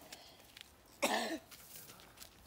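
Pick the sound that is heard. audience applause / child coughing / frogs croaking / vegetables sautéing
child coughing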